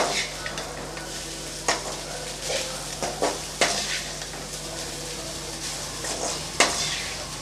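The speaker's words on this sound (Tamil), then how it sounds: "நல்லா கலந்து விட்டுறலாம்" A spoon stirs and scrapes through curry leaf rice mixed with spice powder in a pan, with soft sizzling underneath. Repeated close scraping and tapping strokes come at irregular intervals, and no one speaks.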